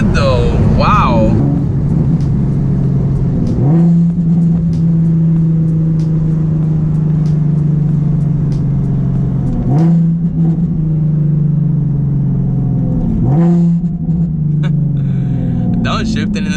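A Nissan 370Z engine hums steadily while downshifting, with several short sharp rev blips breaking up the sustained drone, heard close from inside the car as someone talks.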